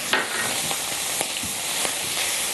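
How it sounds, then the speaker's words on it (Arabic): Onions fry in oil in a pan with a dense, continuous sizzle, up close, with a few light stirring knocks and no talk. "حمري حمري حمري البصل. بحمر اهو."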